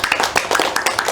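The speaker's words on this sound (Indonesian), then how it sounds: "Tepuk tangan kita semua." Brief scattered applause in a classroom, a short burst of several pairs of hands clapping unevenly at close range.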